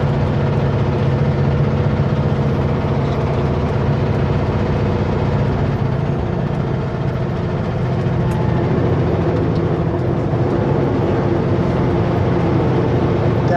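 A heavy truck engine with overheating trouble drones loud and steady through a downshift, its low rumble continuous and close with no talk over it.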